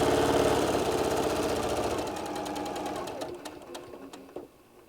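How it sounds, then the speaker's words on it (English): A sewing machine runs steadily and loudly while stitching a half-inch seam on a large bean bag, then slows and stops in a few short bursts near the end. "And I'm sewing this at a 1/2 inch."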